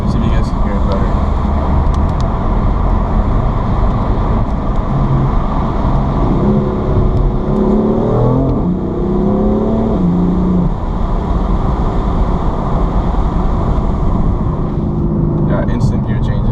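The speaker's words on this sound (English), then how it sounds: "so you guys can hear how the DCT downshifts, because it's absolutely insane" BMW M4 with DCT dual-clutch gearbox downshifting while driving, a steady loud engine drone with quick rising and falling rev blips through the middle as gears drop, no talking over it.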